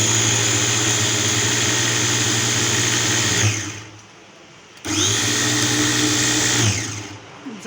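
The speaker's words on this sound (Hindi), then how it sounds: "अब मैं इसको ग्राइंड करती हूँ।" An electric grinder whirs loudly while mincing beef for meatballs, running in two bursts with a short pause between, a steady high motor whine.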